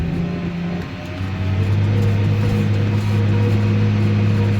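A tractor engine running steadily in third gear, second range, at about 10.6 km/h during pre-sowing cultivation of a field for watermelons and melons, heard from inside the cab as a loud constant drone with a firm low hum.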